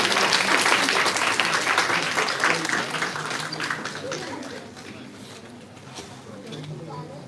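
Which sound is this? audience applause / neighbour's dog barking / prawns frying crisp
audience applause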